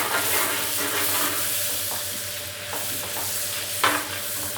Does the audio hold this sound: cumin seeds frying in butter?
yes